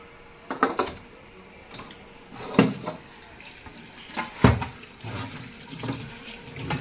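A mutton head being washed under a running tap, with intermittent splashes and water spattering in a sink, plus a few knocks against the basin, close and moderately loud.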